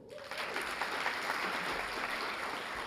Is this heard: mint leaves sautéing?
no